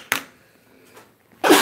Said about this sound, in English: I'm about ready to sneeze.